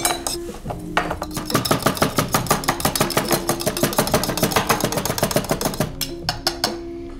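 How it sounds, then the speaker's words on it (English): A banana is chopped into smaller pieces with a knife on a board: quick, regular, close knocks in a steady rhythm, with no talking. "Chop it in smaller pieces."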